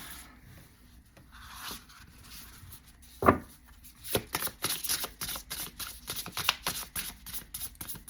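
A deck of cards is riffled and shuffled by hand up close, a rapid run of crisp flutters and snaps after a few softer handling rubs, fairly quiet overall.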